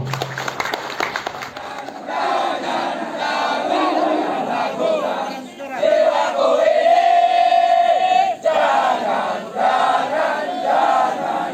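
A crowd at a village head training event in Nagan Raya, Aceh, claps and cheers loudly and continuously, with a broad roar of many voices and hands holding steady for about ten seconds.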